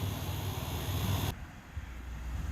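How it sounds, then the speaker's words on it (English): Traffic roars past at a road intersection, a loud broadband rush that cuts off abruptly partway through, leaving a lower steady rumble of passing vehicles. "sorry about the traffic noise"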